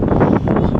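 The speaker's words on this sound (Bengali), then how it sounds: "প্রচন্ড বাতাসও কিন্তু আছে বাতাসের শব্দ" Strong wind blowing across a village rooftop in bright sun, a steady loud rushing buffet on the microphone that fills the short moment with no pauses.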